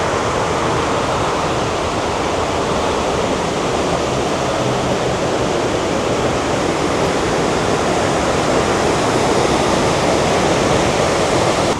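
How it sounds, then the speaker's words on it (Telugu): Kuntala Waterfalls roaring from the view point, a steady, loud, dense rush of falling water that fills the whole scene without pause. "Kuntala water falls view point ఇది"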